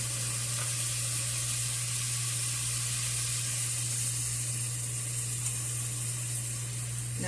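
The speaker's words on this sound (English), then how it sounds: "all this is going to sit here and seep, boil, simmer" A pot of white bean, ham and potato soup with turkey leg and bouillon cubes boils and simmers, giving a steady close hiss and bubbling sizzle under a constant low hum, with no talking.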